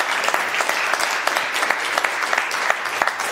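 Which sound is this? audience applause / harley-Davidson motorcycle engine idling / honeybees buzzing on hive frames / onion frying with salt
audience applause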